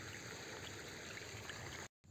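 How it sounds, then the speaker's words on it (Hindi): Water pours steadily into a fish pond, a continuous close rushing flow with a brief cut near the end, no voices. "पानी भी भरा रहा है"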